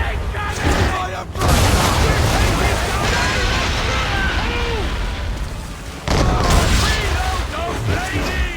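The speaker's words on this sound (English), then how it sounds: "Take cannon! Fire" Cannons fire in the video game Assassin's Creed 3: two heavy, close booms a few seconds apart, each followed by a sustained roaring rumble, with shouted voices mixed in.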